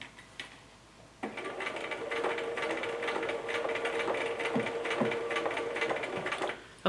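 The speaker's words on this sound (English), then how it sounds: "we're just going to keep stitching slowly until we get to this inner point." A sewing machine stitches steadily with a rapid mechanical whir and clatter, starting after a brief quiet pause and running evenly until it stops.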